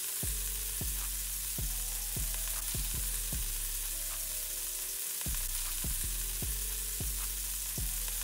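Beef slider patties fry in a pan with a steady, dense sizzle running throughout, while a low tonal hum with recurring pulses sits underneath; no one speaks.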